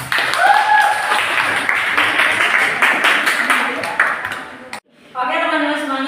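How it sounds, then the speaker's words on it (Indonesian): Group applause in a classroom as a small student group claps and cheers together, steady and fairly loud for several seconds, then a short gap before voices and a chime-like tone follow. "Ya, tepuk tangan."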